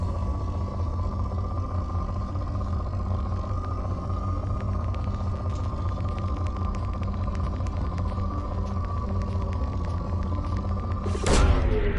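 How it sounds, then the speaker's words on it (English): A probe launches in the video game Mass Effect 2: a steady low ship hum holds throughout, then a short, sharp whooshing burst rises near the end. "Launching probe."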